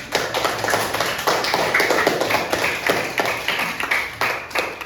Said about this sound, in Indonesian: Tepuk tangan anak.